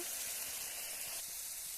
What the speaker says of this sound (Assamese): জিকাখিনি মই অলপ ভজা যোৱালৈকে ইয়াতে ভাজি থাকিম